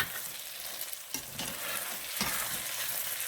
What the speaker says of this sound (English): Add your rosemary.